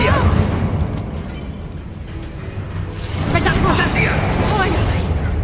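Incendio fire spells cast in the Hogwarts Legacy video game burst out as booming, whooshing blasts of flame over a continuous rumbling game soundscape.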